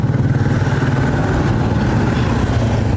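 A motorcycle engine throbs steadily and loudly nearby for a few seconds, with a rough pulsing idle-like chug and no speech over it.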